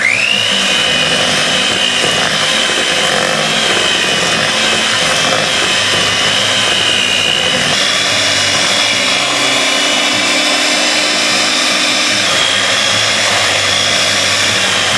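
An electric mixer beats eggs into snickerdoodle cookie dough, a loud continuous whirring drone that holds steady throughout, close up with no talking over it.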